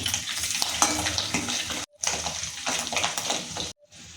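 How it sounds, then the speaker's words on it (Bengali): Fish roe frying in hot oil left from frying brestha fish, a dense crackling sizzle up close, cut by two brief silent gaps. "ব্রেস্তা ভাজা তেলেই আমি ডিমগুলো ভেজে নেব।"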